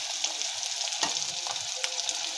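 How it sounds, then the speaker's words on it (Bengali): Fish frying in hot oil gives a steady, close sizzle with small crackles and pops, heard on its own without any talk. "দেখো আমাদের এক পিঠ ভাজা হয়ে গেছে"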